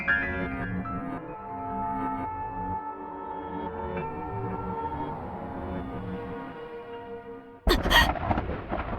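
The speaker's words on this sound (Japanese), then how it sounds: "雷が近くに落ちたのではないか" Thunder cracks nearby in the video game Magical Girl Witch Trials, a sudden loud broadband crash near the end after a long stretch of sustained tonal music.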